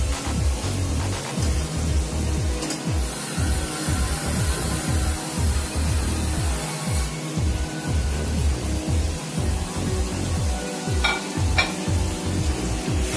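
Onions frying with tomatoes and spices for a stew make a continuous loud sizzle with a busy churning texture, as a utensil stirs the pan in quick repeated strokes, and a few light metallic taps toward the end.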